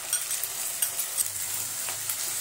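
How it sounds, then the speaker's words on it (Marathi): Chopped tomatoes with ginger-garlic paste being sautéed in a pan for a tawa paneer pulao, giving a steady soft sizzle with faint stirring scrapes, fairly quiet and without talk. "इथे आपण टोमॅटो बघा मऊ होईपर्यंत परतून घेतलेला आहे।"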